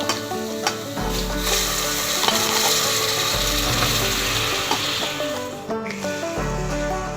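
Boti, goat tripe, fries in a pan for curry with a continuous loud sizzle, punctuated by repeated scraping and clattering of a stirring spoon against the metal; no one talks over it.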